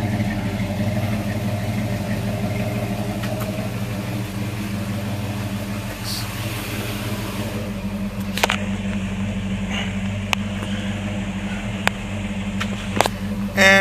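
A 1955 Chevy 210 with a 468 big block engine idles in a steady, deep, loping rumble, close and loud throughout, with a few faint clicks near the end.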